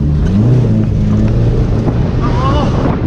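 A stock Toyota Corolla TE71 with a 2T engine revs hard with a sticking accelerator during a rainy drift day, a loud, sustained droning engine buzzed by wind on the microphone, with a voice speaking over it.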